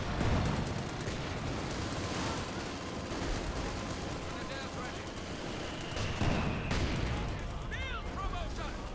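MP40 submachine guns and StG assault rifles fire from two flanks in the World War II strategy game Company of Heroes 2: dense, overlapping bursts of gunfire over rumbling battle noise, with occasional louder cracks.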